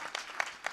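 Brief burst of audience clapping at a kirtan performance, a few distinct claps rising out of a scattered patter, moderately distant and fairly quiet.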